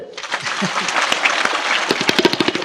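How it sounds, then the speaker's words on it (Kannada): An audience at a religious discourse gathering claps together, many sharp hand strikes blending into a busy, fairly loud patter that grows into crisper, more distinct claps toward the end. "ಚಪ್ಪಾಳೆ ಹಾಕ್ರಿ"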